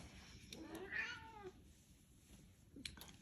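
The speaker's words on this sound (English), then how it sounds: "my cat's climbing up here" A cat gives one clear, drawn-out meow close to the microphone in a quiet room, followed by faint rustling.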